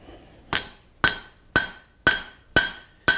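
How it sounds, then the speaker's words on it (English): Six evenly spaced, sharp metallic hammer blows ring out on hot steel as a blacksmith forges a taper at the anvil, each strike loud and close with a brief bright ring, no talking. "that I'm smacking it with the hammer."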